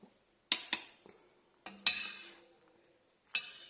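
A spoon knocks against a pot of Italian-style lumachine pasta and pumpkin soup several times in irregular clusters, sharp metallic taps ringing briefly with quiet pauses between.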